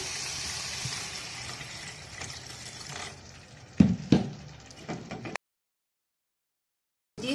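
Water pours and gushes into a cooking pot of fried beef tongue with a sizzle, then a couple of louder splashing bursts before the sound cuts off.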